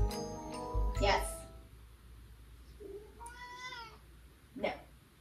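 A kitten meowing indoors at home, a few drawn-out rising and falling meows close by, with a person talking at the same time.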